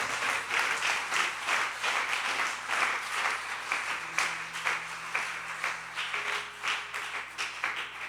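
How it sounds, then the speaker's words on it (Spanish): Church congregation applauding during a worship service, a steady loud wash of many hands clapping for the full stretch with no talk over it. "Dale fuerte el aplauso a Jesús."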